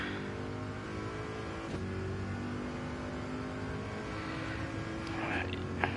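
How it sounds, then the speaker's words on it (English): Corvette GT race cars roar around the Daytona circuit, a continuous, steady engine drone that stays fairly distant and even in level, with no break across the stretch. "you hear a roar of race cars"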